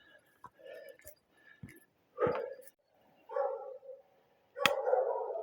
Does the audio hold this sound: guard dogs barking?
yes